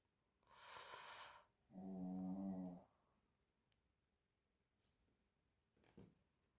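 A dog snores during a quiet crochet session, two loud rasping snore breaths in quick succession, the second deeper and more tonal, followed by faint breathing and small rustles.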